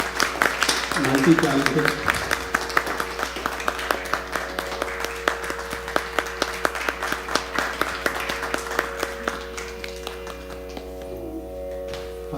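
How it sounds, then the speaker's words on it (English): Audience applause at a music academy fundraiser concert, dense rhythmic clapping that starts after a spoken word, holds steady for about ten seconds and then thins out. "big round of applause for her"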